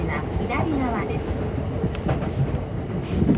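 A JR Yamanote Line train runs from Ueno toward Okachimachi in Tokyo the day after heavy snow. Its rumbling and rattling roll on steadily beneath a voice that seems to be an onboard announcement.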